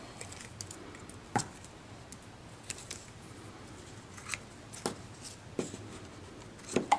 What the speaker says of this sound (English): I'm going to trim everything because all of that is way too long, so I've got my craft scissors to trim that